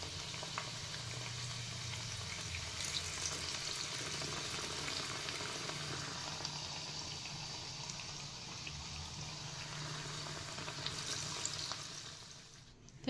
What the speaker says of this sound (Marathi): आता आपण बाकीचे सुद्धा असेच मी फ्राय करून घेणार आहे